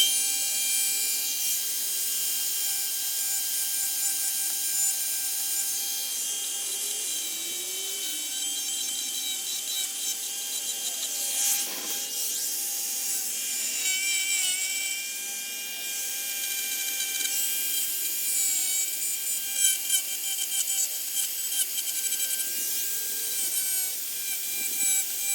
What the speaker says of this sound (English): I got some screws that are kind of popping through here, so I'm going to go ahead and grind those off real quick